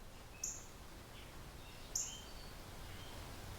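A bird inside a barn room gives two brief, high chirps about a second and a half apart, faint against a quiet, hushed indoor background.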